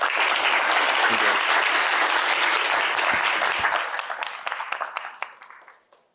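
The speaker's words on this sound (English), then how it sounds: "Let's give him a round of applause." A large audience at an innovation showcase and award ceremony gives a loud, dense round of applause that thins into a few scattered claps before fading out.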